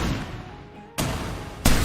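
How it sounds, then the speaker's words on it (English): Fireworks booming outdoors: two loud, sharp blasts about two-thirds of a second apart, each leaving a broad rumbling wash, following a lower steady background. "Those are fireworks, said Dad."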